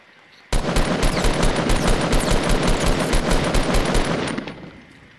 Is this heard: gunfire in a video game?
yes